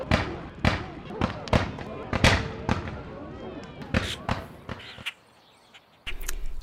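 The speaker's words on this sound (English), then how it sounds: "Fire Roman candles into the woods after dark." Roman candle fireworks fired into the woods after dark in Charlotte, North Carolina, popping in a loud irregular string of sharp bursts with crackling trails, then a brief lull before more noise.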